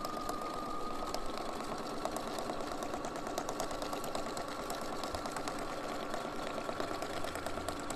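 A Bernina sewing machine with a #43 couching foot stitches steadily, a quiet even mechanical whir with a fast regular needle rhythm running unbroken throughout.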